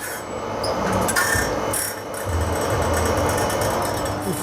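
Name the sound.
sharpening saw blade teeth with a grinding wheel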